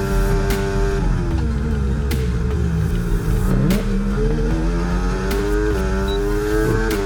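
A racing car engine in a video game revs loud and close, its pitch climbing and falling through gear changes.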